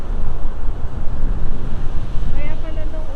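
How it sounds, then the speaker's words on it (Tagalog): Strong gusting wind buffets the microphone, roaring continuously over the sound of sea waves on a rainy, windy coast in the province, with a faint voice near the end. "At mas lalo lumalakas itong alon."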